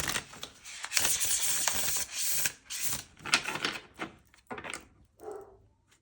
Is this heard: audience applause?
no